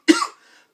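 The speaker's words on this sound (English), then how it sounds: "I've been trying to hold that cough like this whole time." A single short cough from a person who is sick, close and fairly loud, with a brief tail afterward and no talking.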